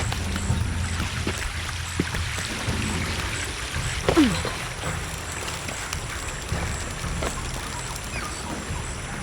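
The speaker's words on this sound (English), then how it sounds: "The water's filling the bucket." Water pours steadily into a bucket in Shadow of the Tomb Raider, a continuous splashing rush over a low ambient rumble, with a brief creak or sweep partway through.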